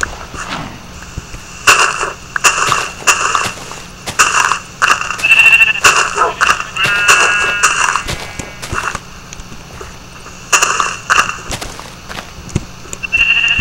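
Sheep bleat repeatedly in uneven bursts, several animals calling close by over a faint steady background, with no talking.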